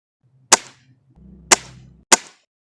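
Three sharp shots from a Gamo Whisper Fusion Mach 1 air rifle, each a crisp crack with a short decay, the first alone and the last two closer together, over a faint low hum.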